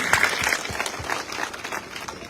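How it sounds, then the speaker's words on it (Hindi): An audience at a stage event welcomes a speaker with loud applause, a dense burst of clapping that carries on throughout. "जोरदार तालियों से एक बार आप सबकी तरफ से स्वागत की"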